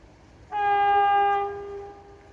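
EIP passenger train sounding a loud, sustained horn blast close by, a steady multi-tone chord held for about a second before tapering off, with no other sounds.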